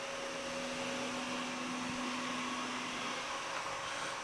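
A Samsung Powerbot R7040 robot vacuum runs with a steady, faint whirring motor hum and airy suction noise that holds at an even level throughout, with no voices.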